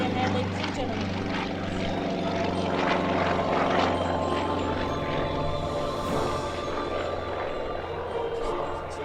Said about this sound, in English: The Sukhoi. This is an SU-26. Here he is blowing smoke all over the runway.